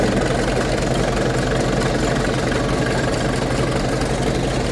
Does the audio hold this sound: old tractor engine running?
yes